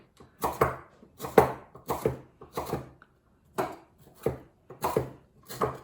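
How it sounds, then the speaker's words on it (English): A sharp knife chopping food into bite-sized pieces on a wooden board, about a dozen sharp, knocking cuts in an uneven rhythm with short pauses, close and clear. "with a sharp knife on my chopping board"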